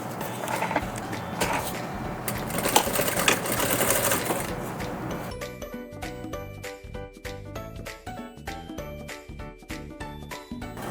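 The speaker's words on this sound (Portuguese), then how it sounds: "nós vamos passar uma costurinha pé de máquina aqui." A sewing machine runs a straight stitch along fabric for a zippered vanity box bag. A steady hum and broad whir settle into a fast, even mechanical ticking, close and loud, with no voice over it.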